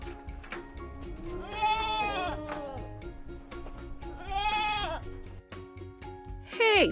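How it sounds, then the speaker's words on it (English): A goat gives two long, quavering bleats a few seconds apart, fairly close, over a soft continuous background tune. "G for goat."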